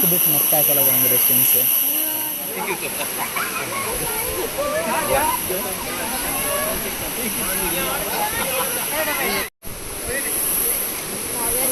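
Kaveri river flowing inside the Nisargadhama forest reserve near Kushalnagar in Coorg, a steady broad rush of water with hiss and splashing, continuous and fairly loud, with a voice talking over it.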